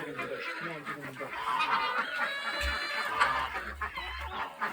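A mixed flock of poultry, chickens among geese and guinea fowl on a homestead, clucks and honks continuously at close range, busy overlapping calls filling the whole stretch with a person talking nearby.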